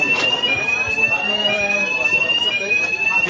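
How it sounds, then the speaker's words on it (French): Office building fire alarm on a traders' floor, a continuous steady electronic tone ringing loudly throughout while voices talk beneath it. "l'alarme incendie n'est pas un exercice."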